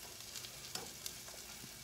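Spices and onions sautéing in oil in a pan for a home-cooked ginataang monggo with malunggay and squash, a steady soft sizzle with a couple of faint stirring clinks, no talking.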